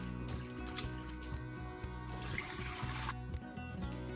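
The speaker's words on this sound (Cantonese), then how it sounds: "呢個都係熱水喉嘅熱水，不過佢冇咁熱。" Hot water runs from a tap as cured Cantonese meat is rinsed under it, a steady close splash with dripping and squishy handling sounds.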